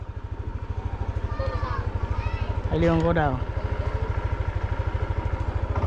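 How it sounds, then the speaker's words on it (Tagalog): A motorcycle engine chugs nearby in a steady, evenly pulsing rhythm that swells briefly midway, with people talking over it. "agi pa ang motor dyan"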